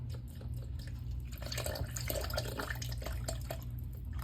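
Liquid is poured steadily into a measuring cup up to the 16-ounce mark while making a gluten-free vegan breakfast burrito, a continuous close trickle and splash with no speech.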